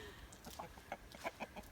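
Backyard rooster clucking in short bursts, several brief calls spaced irregularly over faint background noise, moderately close.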